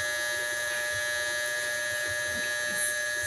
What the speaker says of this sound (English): Sorry, I forgot to turn off my dryer and it's a little bit loud.